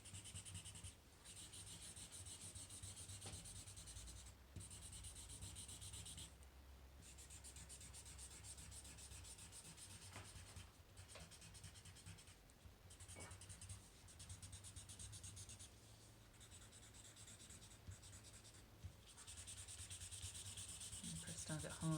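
A blue crayon rubs back and forth over paper, colouring in the background behind a drawn tree in steady scratchy strokes broken by brief pauses, close and quiet.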